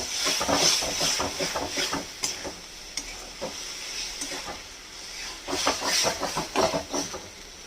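Spring onion masala with chilli and salt sautéing in a pan, a steady close sizzle and hiss broken by bursts of scraping stirring, fairly loud and without talk.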